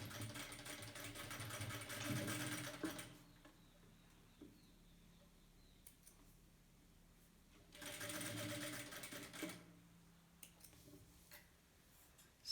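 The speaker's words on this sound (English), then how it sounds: "Go over it with a reverse stitch." Sewing machine running a reverse stitch on a two-layer cotton fabric mask, two close bursts of steady whirring separated by a quiet stretch with light clicks and handling.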